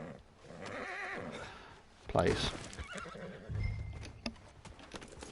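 A horse in the Red Dead Online video game gives a loud, close whinny and snorts amid hoof clatter, while a person talks over it.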